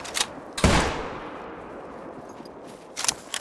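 Rifle shots while hunting in theHunter: Call of the Wild, two sharp cracks with a long decaying echo rolling out after the first, then a quieter tail before another shot near the end.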